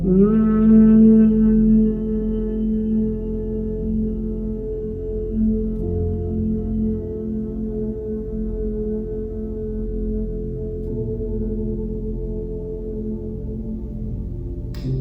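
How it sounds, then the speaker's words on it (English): A low, steady closed-mouth hum held for a long exhale during bumblebee breath pranayama, buzzing softly and fading gradually with no talking. "a really special and soothing pranayama called bumblebee breath"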